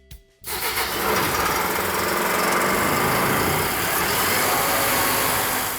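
The engine of a wet blast sandblasting unit is started, a brief crank quickly catching into a loud, steady, close engine roar that runs unbroken for several seconds, with no talk.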